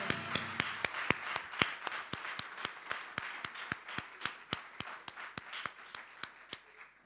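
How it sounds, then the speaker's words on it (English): Sparse, evenly spaced claps ring out for the dietitian Cass, a small audience giving a thin, rhythmic round of applause at moderate distance with no talking. "Cass, you really deserve an enormous round of applause"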